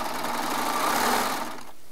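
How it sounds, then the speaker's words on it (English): A serger sewing machine runs steadily, stitching and trimming fabric with its knife in a continuous close mechanical whir that winds down near the end. "the knife on the serger will trim all that for us"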